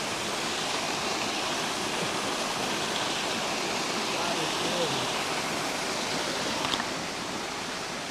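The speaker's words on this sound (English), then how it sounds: "Major waterfall going off right here." A major waterfall roars at night in the countryside near the Troll Bridge, a dense constant rush of falling water close by that stays loud and even throughout.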